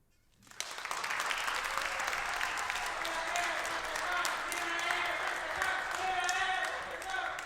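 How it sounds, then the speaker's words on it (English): Audience applause after a spoken personal story at an event, starting abruptly and holding steady as a dense, continuous wash of clapping with crowd noise. "Can we give them another round of applause?"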